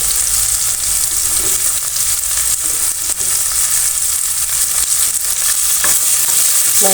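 Green chilli, ginger and peas fry in a pan, giving a steady, dense sizzle and crackle that runs throughout, with a few light stirring scrapes and no talking.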